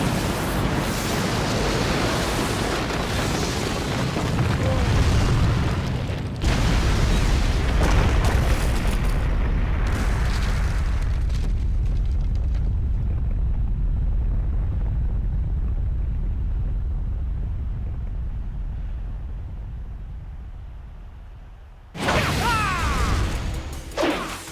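Loud explosive booms, crashes and whooshing blasts from fire style and wind style jutsu attacks in Naruto Shippuden Ultimate Ninja Storm Revolution, a dense roar fading out before a final burst.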